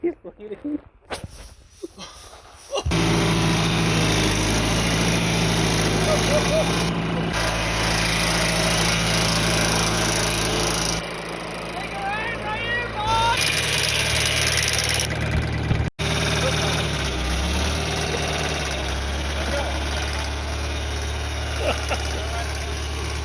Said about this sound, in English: this is not a diesel. This is a gasser John Deere.